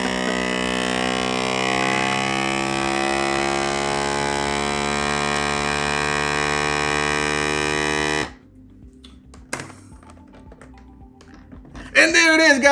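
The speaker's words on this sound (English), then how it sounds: "Vacuum seal." A QDH vacuum food sealer runs with a steady, loud motor hum for about eight seconds, then cuts off abruptly, leaving quieter clicks and handling noise and a brief rising whir near the end.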